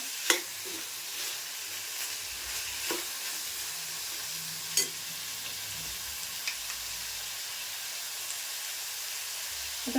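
Vegetables sauté in a pan for green pea rice, giving a soft, steady frying hiss with an occasional faint scrape of stirring, close and fairly quiet.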